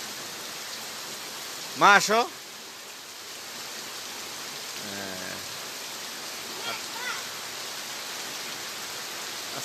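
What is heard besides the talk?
heavy rain falling outside a house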